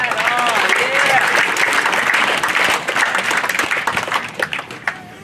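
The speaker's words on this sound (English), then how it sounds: "Let's give them a big round of applause." An audience at a high school graduation ceremony breaks into loud, sustained applause, dense clapping with a few cheers and whistles, thinning toward the end, with voices faintly mixed in.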